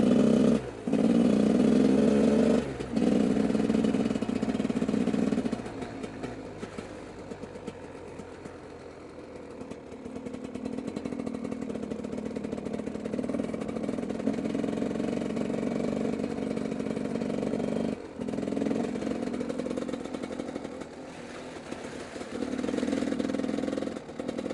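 A motorcycle accelerates as it rides along country fields and dirt tracks, its engine a steady mid-pitched drone that rises and falls in level, with wind rush and brief gear changes.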